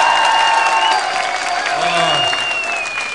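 Audience applause at a Turkish patriotic event, a steady continuous wash of clapping filling the whole stretch, with a presenter's voice carrying over it.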